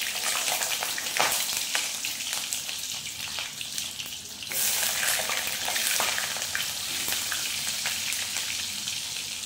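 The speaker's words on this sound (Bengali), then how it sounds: "বন্ধুরা, এবারে এই গাজরগুলো ভেজে নেব।" Carrots fry in hot oil in a home kitchen, a continuous bright sizzle with occasional stirring clatter and a surge of crackling midway as more pieces hit the oil; no one speaks.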